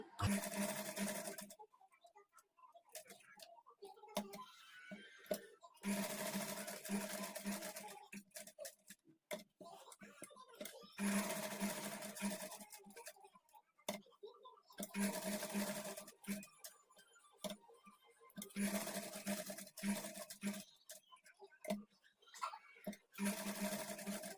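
A sewing machine runs in repeated bursts while stitching a kurti neckline, each whirring run stopping and starting again with short quiet gaps for turning the fabric, heard close and clear with faint handling noise between runs.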